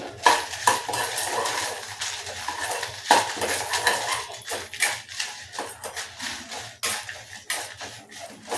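Fenugreek seeds, dried red chillies and cumin roast in a pan for mango chutney, with steady stirring scrapes and clinks of a utensil against the pan over a faint background hiss, continuous throughout.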